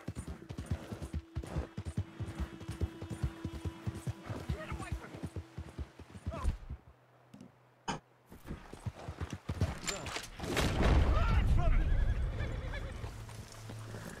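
A horse ridden in the Red Dead Redemption 2 game, hooves clopping at a brisk pace and a loud whinny near the middle, followed by a rushing roar, with someone talking over much of it.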